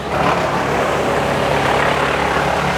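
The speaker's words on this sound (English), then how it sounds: "Now it's getting pretty noisy, so I'm going to put my earmuffs on. Is that wood chipper?" A wood chipper runs during a tree removal, giving a loud, steady engine roar with a broad, rough hiss that holds constant throughout without letting up.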